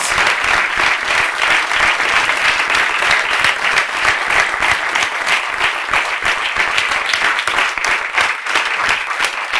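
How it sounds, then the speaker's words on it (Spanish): Audience at a talk event applauding warmly, a dense, steady wash of many hands clapping at close range for nearly ten seconds without letting up. "Les damos un fuerte aplauso a los dos."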